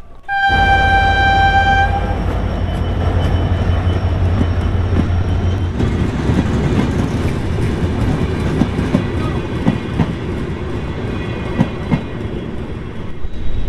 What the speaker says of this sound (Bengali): তো ট্রেন কিন্তু জাস্ট চলে গেল